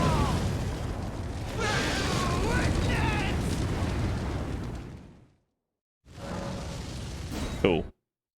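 A dragon's fire breath in the fantasy game Elden Ring comes as a loud, sustained roaring blast for about five seconds, cuts out abruptly, then returns in a second shorter burst that ends with a sharp crackle.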